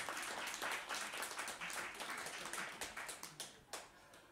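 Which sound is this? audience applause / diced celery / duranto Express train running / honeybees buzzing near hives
audience applause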